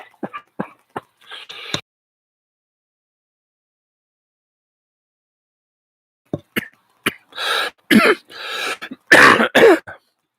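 Several short coughs and throat clearings come in a burst, then silence, then a longer fit of harsh, close coughing.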